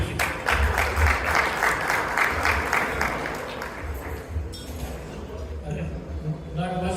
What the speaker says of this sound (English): I want to introduce for him, with a big round of applause